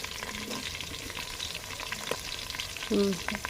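Carrot pieces are stirred into fried onions in a pan, giving a steady close sizzle with scraping strokes of a spoon and a louder clatter near the end, with no talking.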